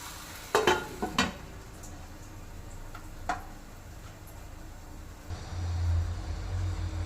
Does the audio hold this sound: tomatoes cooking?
yes